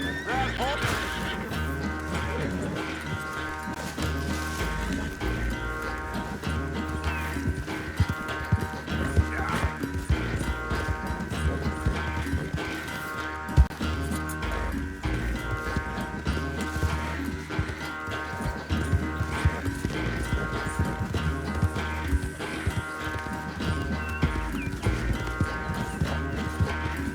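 Horse neighing and clip-clopping hooves in the video game Red Dead Redemption 2, loud and continuous throughout, layered with game music and other effects, with talk occasionally mixed in.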